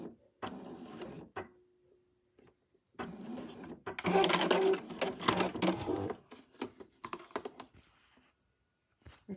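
A sewing machine runs a straight stitch along a fabric edge in short, close bursts with pauses between, its quick mechanical whir separated by gaps of near silence and small handling sounds.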